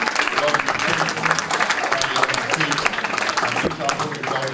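Dense, steady applause from a large crowd fills the room at an aviation careers conference, loud and continuous throughout with no break.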